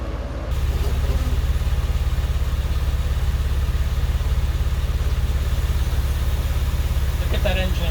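A 2001 Porsche 911 Carrera 4 (996) engine runs steadily at idle, close and loud, with a constant low rumble starting just after the first half-second and holding evenly to the end.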